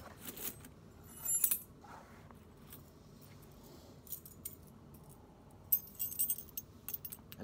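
Metal keys jangle as they are added onto a key string, sporadic close bright clinks and rattles in short clusters separated by quiet pauses.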